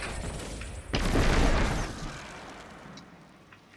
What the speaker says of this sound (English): Hand grenade.